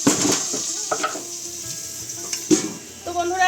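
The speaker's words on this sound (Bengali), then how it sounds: "এখানে পটল ভাজা হচ্ছে" Pointed gourd sizzles in a hot pan while a utensil stirs and scrapes, with a few sharp clanks against the metal.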